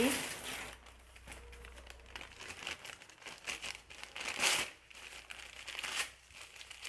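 Newspaper being torn and crumpled by hand at close range in a kitchen, with crackling bursts and tearing over faint background voice.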